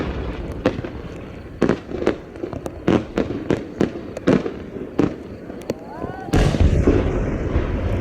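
At a competitive fireworks festival in Yatsushiro, a No. 10 aerial shell display sets off a rapid series of sharp bursts and crackles about a second apart, ending in a dense, sustained crackling shower.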